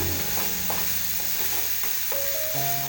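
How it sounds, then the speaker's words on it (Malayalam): Onions sautéing in hot coconut oil in a pan, with a soft, steady sizzle beneath a faint tonal hum and gentle periodic stirring scrapes. "എണ്ണ ചൂടായി, നമുക്ക് സവാള വഴറ്റിയെടുക്കാം"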